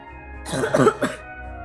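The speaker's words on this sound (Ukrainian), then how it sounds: "Ой, хто так кашляє?" Coughing in a children's theatre class, with a short burst of two or three rough coughs close up, standing alone against a quiet background.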